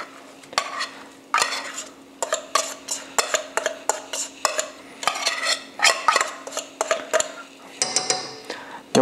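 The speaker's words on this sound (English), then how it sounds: "finally, we're going to mix in our can of crab meat" Canned crab meat being stirred into a fish mixture in a pan, with repeated close metal scrapes and clinks of a utensil against the pan over a light sizzle and a steady hum.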